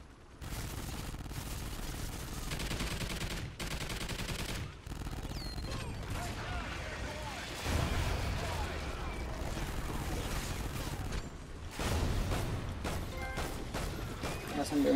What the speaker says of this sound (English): I'll use this turret.